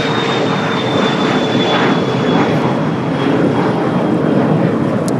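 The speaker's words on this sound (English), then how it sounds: "So Cathay will be the next departure on 25 at right." A Cathay Pacific jet departs runway 25 right at Los Angeles International Airport, its engines a loud, steady roar that holds at full strength from start to finish with no voices over it.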